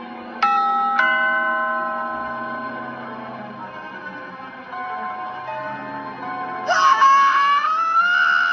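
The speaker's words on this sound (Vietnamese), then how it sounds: "Ấn chuông, sau đó chạy đi." A doorbell rings twice in a Roblox horror game, with bright bell tones whose lingering hum fades under an eerie sustained drone, followed late by a rising wailing tone.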